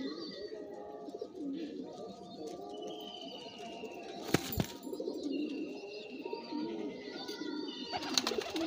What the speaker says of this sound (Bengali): এ একটি গোলাধারী পায়রা, এগুলো সব গোলা লাইনের পায়রা